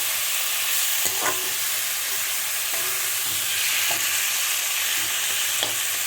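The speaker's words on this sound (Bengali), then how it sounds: "আটাটা দিয়ে দিলাম সুন্দর করে মিশিয়ে দিতে হবে" Flour being stirred into taro stolons frying in a pan, a constant hissing sizzle with a spatula scraping and knocking against the pan every second or so, close up, with no voices.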